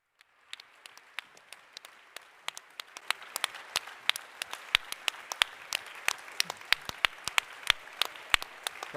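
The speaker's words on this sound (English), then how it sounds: "Let's give them a round of applause." Audience applause at a peace conference in Normandy, sparse at first and quickly building into steady, dense clapping that carries on for about nine seconds.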